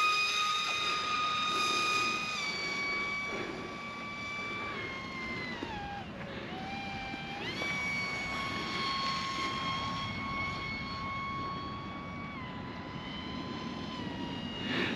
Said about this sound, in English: it's a 3700 kV motor, 1407 is the size, and it's turning that 3052 prop